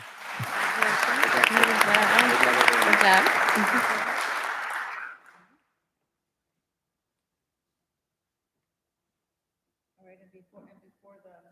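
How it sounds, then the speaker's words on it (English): Applause from a conference audience at the 2023 Future Leaders Conference, a full burst of many hands clapping for about five seconds that cuts off to silence, followed later by faint talk. "If we could give them a round of applause, please."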